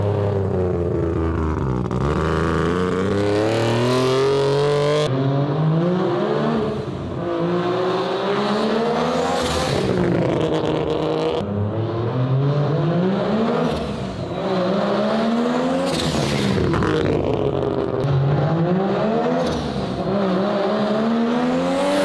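A three-rotor rotary engine car revs hard and climbs into boost, its loud, raspy engine note rising through repeated sweeping pulls with brief dips between them, sustained and close for over twenty seconds with no talking.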